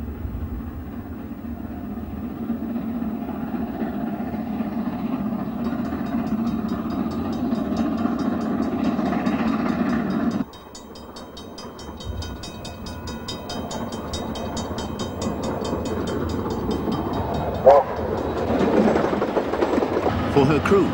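Steam locomotive JA 1250 runs on rails on its way to the Glenbrook Vintage Railway in New Zealand: a continuous rumbling roll with rhythmic rail noise and a brief whistle-like tone near the end, partly under other sound.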